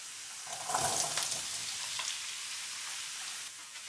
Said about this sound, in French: on va verser les pommes de terre dans l'autre poêle